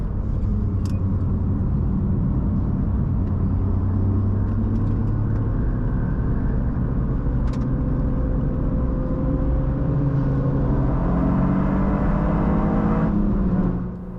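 A manual left-hand-drive car drives a wet race track, its engine humming and rising steadily in pitch as it accelerates through the gears, loud and continuous with tyre and road rumble and no talking.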